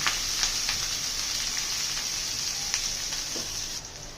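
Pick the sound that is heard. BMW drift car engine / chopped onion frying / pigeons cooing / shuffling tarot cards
chopped onion frying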